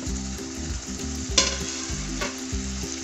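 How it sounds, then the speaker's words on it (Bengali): Stingray (shankar fish) pieces sizzle and fry in a spicy masala, with a steady crackle and occasional sharper bursts as the pieces are stirred, alongside a low, rhythmic tonal background. "এবার আমি এর মধ্যে মাছগুলো দিয়ে দিচ্ছি।"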